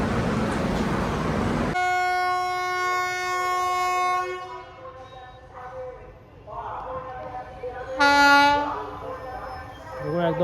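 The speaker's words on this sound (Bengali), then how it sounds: "এখন আসছে ওই ট্রেনটা, কিছুক্ষণ ঢুকছে" A Gurumukhi Express train pulls into Dum Dum station, sounding a long, loud horn with strong steady tones, followed by rumbling carriages, platform bustle and a second sharp horn blast near the end.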